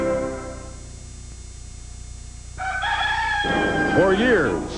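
A rooster crows in a Golden Plump chicken commercial: a quiet tonal lead-in, then one loud, drawn-out cock-a-doodle-doo that rises and breaks into wavering, falling notes at the end.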